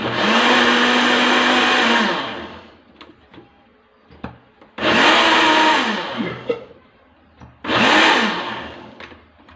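A blender mixes batter with yeast in three loud bursts of roughly two to three seconds each. Between the bursts come quieter clicks and knocks.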